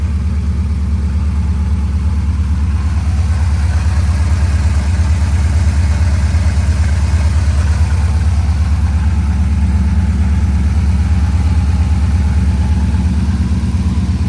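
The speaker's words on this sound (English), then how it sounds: "this is the most accurately this engine's ran in a long time" A square body truck's big-block engine idles on Holley Sniper fuel injection, a loud, steady, low rumbling idle with an even pulsing beat that continues throughout.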